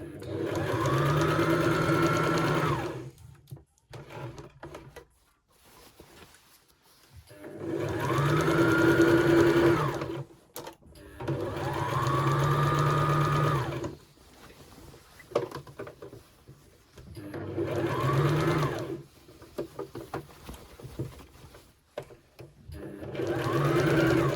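A sewing machine stitches the seam of a tiered maxi skirt in four long, steady bursts of motor hum, close and loud, separated by short pauses with small handling noises and no talk.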